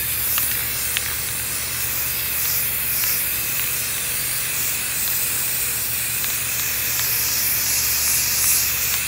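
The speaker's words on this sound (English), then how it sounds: "now I'll get ready to spray the purple on there" Purple spray paint hisses steadily from a spray can or gun onto homemade Jeep cowls, a continuous close airy spray lasting throughout with no talking.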